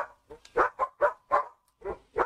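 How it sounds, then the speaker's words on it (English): Several dogs barking in short, sharp bursts, about seven barks in quick irregular succession, fairly close and loud against an otherwise quiet room. "They're mad because Carol is not giving the dogs a treat"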